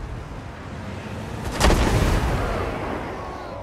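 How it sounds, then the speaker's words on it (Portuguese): A Thunderbird cannon fires in Total War: Warhammer 2, a single heavy boom that rings out partway through, then rumbles and fades over a steady background of battle ambience, with no speech. "Ele tá atirando como se fosse um navio mesmo, tipo, vai um canhão de cada vez"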